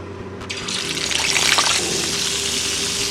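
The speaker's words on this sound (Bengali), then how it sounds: "এবারে ওই একই তেলে মাছগুলো আমি ভেজে নেব।" Pieces of katla fish fry in hot oil in a pan, a dense, steady hiss that swells briefly after the fish goes in, then settles into an even sizzle, close by with no talk.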